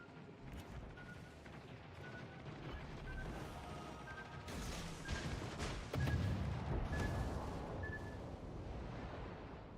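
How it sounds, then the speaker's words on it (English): A torpedo detonates in a naval combat video game, a dull, distant rumbling blast swelling over a steady bed of engine and sea noise. "We got a detonation."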